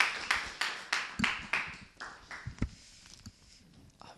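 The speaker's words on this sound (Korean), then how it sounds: "박수로 모십시다." At a church evangelism school gathering, a small audience gives sparse, distinct handclaps in a loose rhythm that thins out and fades to quiet scattered taps within a few seconds.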